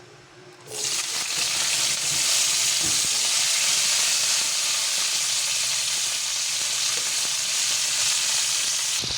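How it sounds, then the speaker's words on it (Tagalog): String beans (sitaw) fry in a hot pan, opening with a sudden loud sizzle that settles into a steady, close hiss and crackle for the rest of the clip, without any talking. "Fry po natin ang bahagya."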